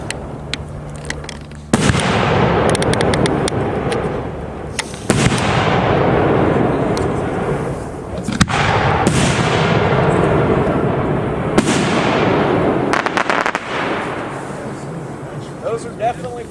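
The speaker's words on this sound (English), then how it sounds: "Now moving on to our 4-inch shells, we have starting off with 4-inch Freedom Fancy assortment." Four-inch Freedom Fancy assortment 1.3 firework shells bursting in a series of loud booms with long crackling tails, several spaced detonations over about sixteen seconds outdoors, with voices talking in between.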